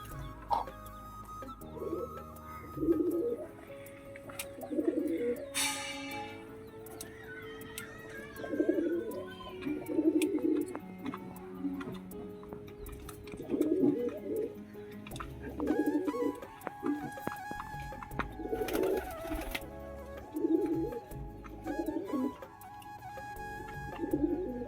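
Lotan and Rajshahi pigeons, a female Lotan and a Rajshahi male, cooing in repeated soft pulses close by, with steady low background hum and a few higher clicks and tones.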